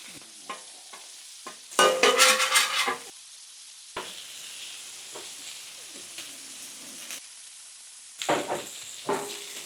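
Sausages frying on a griddle with black pepper and salt, giving a steady hiss with louder crackling bursts and occasional clinks of a utensil, close and alone.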